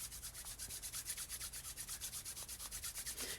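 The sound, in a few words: hands rubbing together to create heat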